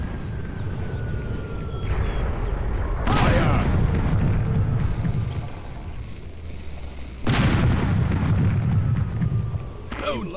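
Airship cannons fire in the video game Air Buccaneers, with loud booming blasts at roughly three- to four-second intervals, each followed by a rolling rumble under a continuous low drone.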